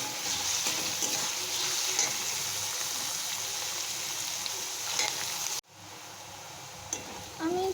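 Onions frying in a pan for an egg puff filling, a steady close sizzle and crackle that drops off abruptly near the end, followed by quieter stirring and scraping sounds.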